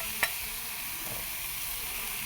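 Spice powder dropped into a hot pan for macaroni masala, a steady close sizzle of frying with one brief tap near the start and no talk.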